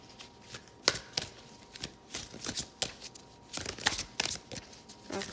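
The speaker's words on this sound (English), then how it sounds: "let's pull some cards here" Tarot cards are shuffled and drawn by hand, with a run of quick, soft riffling and slapping bursts in irregular clusters, close by and fairly quiet, with no talking.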